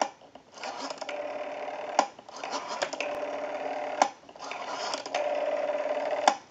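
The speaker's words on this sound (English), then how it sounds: "We have a nice smooth return on our rotary now." A Western Electric Princess telephone's rotary dial whirs back after each number is dialed, with a smooth, buzzing return repeated three times and each run ending in a sharp click at about two-second intervals.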